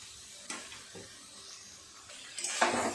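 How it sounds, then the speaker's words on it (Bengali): Taro greens (kochu shak) stirred in a pan over a high gas flame, with soft scraping and a couple of wet metallic clatters, quiet and close with no talk. "এইভাবে অনবরত কচুটাকে নাড়তে হবে।"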